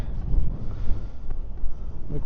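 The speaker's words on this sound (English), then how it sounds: "Gee, that wind." Strong wind buffets the microphone outdoors on a cold winter day in the East Tennessee mountains, with gusty low rumbling rising and falling throughout and no clear speech.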